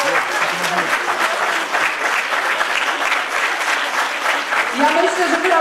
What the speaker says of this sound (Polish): brawa dla państwa